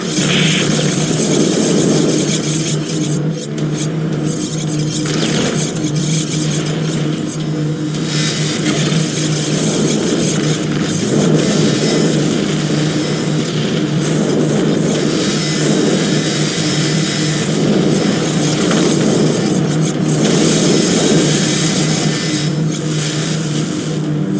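Engines of air support gunships in X-Morph: Defense, a loud, steady roar that holds at one level throughout, with faint rumbling and bursts layered underneath.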